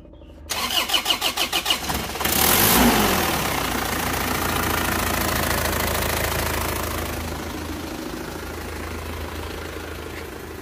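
An Isuzu Panther diesel engine is cranked by its starter in a quick rhythmic series of turns, catches with a loud roar, then settles into a steady, slightly knocking idle close by.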